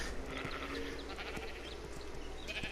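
Sheep (Ovis) in the video game ARK: Survival Evolved bleat several times at a low level over a constant background hum, with a few soft thuds between the calls and no voices.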